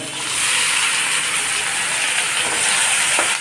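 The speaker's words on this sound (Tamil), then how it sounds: "இப்போ பார்த்தீங்கன்னா நம்ம கொட்டிடுவோம் தக்காளியை" Tomatoes tipped into a hot pan for a bachelor-style biryani hiss into a loud, steady sizzle that holds strong and even throughout, close by.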